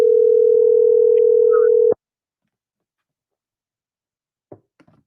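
A telephone dial tone hums steadily and loudly for about two seconds while a call is placed, then cuts off abruptly into silence, followed later by a few faint clicks.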